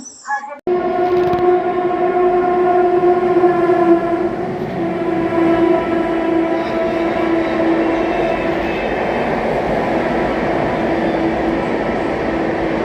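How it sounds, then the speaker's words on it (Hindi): Dibrugarh–New Delhi Rajdhani express overtaking the Magadh Express at Tundla Junction, opening with a loud sustained horn blast over the roaring rumble of the passing train, which carries on steadily to the end. "डिब्रूगढ़ नई दिल्ली राजधानी ओवरटेक कर रही है मगध एक्सप्रेस को टूंडला जंक्शन पर"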